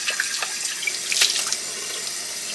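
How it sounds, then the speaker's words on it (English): Cold tap water runs steadily into a coffee pot carafe, a close, continuous splashing stream with light drips and gurgles, with no talking. "Fill it all the way up with cold water to 12 cups."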